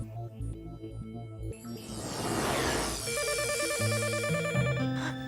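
A telephone rings in a home sitcom scene, its warbling electronic tone repeating steadily and fairly loudly over a busy mix of background music, with no talk.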